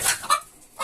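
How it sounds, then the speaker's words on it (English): Hens clucking around a shared nest box in a chicken coop on an abandoned farm being renovated, a few short close clucks in quick succession with no talk. "They're in with the chickens"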